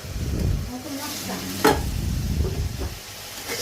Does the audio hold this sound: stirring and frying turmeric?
yes